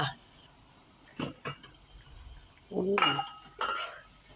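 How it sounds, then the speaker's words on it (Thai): A lid set onto a pot of simmering fish broth for Isan-style catfish boiled in fermented fish sauce gives a few clinking metal knocks, with quiet voices and kitchen clatter around it. "ปิดฝาหม้อไว้ก่อนเดี๋ยวให้เขาเดือดอีกที"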